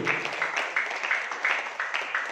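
An audience at a sharia business seminar applauds, a steady wash of many hands clapping in a hall, moderately loud with faint pulsing rises.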